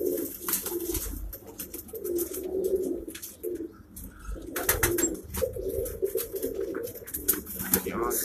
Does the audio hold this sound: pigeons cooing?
yes